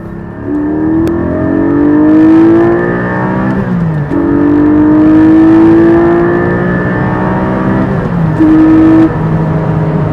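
A Porsche 718 Spyder sports car engine revs hard, climbing in pitch through several gear-like surges with brief drops between, loud and close throughout.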